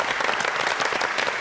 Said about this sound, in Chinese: 掌声给鼓励一下。